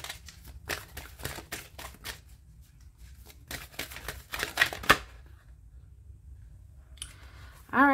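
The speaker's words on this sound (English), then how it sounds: "Let me keep shuffling." Tarot cards are shuffled in quick, soft riffling bursts and crisp clicks, close and fairly quiet, with a brief voice at the end.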